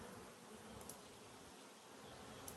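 Honey bees swarm around an open hive during an inspection, giving a steady, dense buzzing drone that stays even and fairly soft throughout, with no voices.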